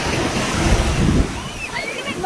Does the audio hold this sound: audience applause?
no